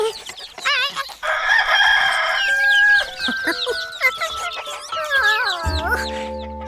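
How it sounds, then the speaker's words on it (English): A cartoon farm rooster crows loudly and clearly, a long drawn-out call with a stretched middle, followed by clucking and chicken chatter, then a low sustained tone at the end. "We just have the one rooster."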